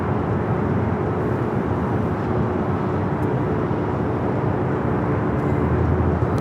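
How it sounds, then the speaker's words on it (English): A JetBlue Airbus A321 arriving at Los Angeles LAX airport from Boston gives off a steady, broad jet roar that holds at an even level throughout, with no voices. "Up next for arrival, a JetBlue flight 387 coming from Boston, an A321."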